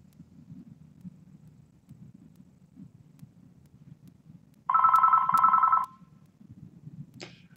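A telephone rings in one steady electronic burst of about a second, loud and clear above low background rumble, followed by a brief click.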